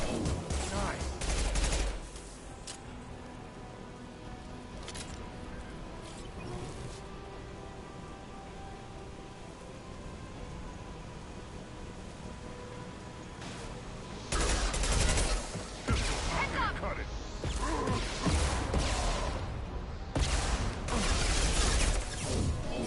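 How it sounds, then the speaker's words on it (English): Mass Effect weapons fire impact shots in bursts of sharp gunfire and crashing hits, loud clusters at the start and in the final third, with quieter combat noise in between. "Firing an impact shot!"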